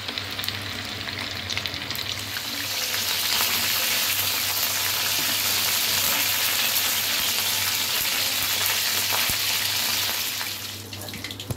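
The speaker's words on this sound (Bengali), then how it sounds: "লোটে মাছের পকোড়াগুলো ভাজা হচ্ছে।" Loitta fish pakoras fry in hot oil, giving a dense, steady hiss that swells louder after the first few seconds and holds close and continuous before easing at the end.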